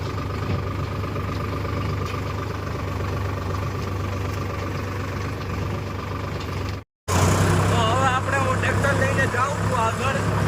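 A heavy tractor engine chugs steadily at close range for the whole stretch, a brief cut midway, with voices talking over the low drone.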